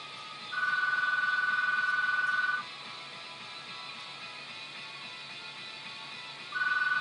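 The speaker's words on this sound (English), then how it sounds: "Actually, it's kind of funny it's ringing right now." A telephone rings indoors in two separate bursts, one lasting about two seconds and a second starting near the end, clear and moderately loud over a steady background hum.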